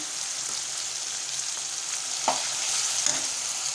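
Tomato frying in oil with ginger garlic paste, a steady, close hiss of sizzling with a couple of light spoon taps and stirring scrapes.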